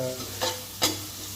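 Chicken curry masala sautéing in oil for Chettinad chicken kuzhambu, a steady low sizzle with two short louder stirring scrapes.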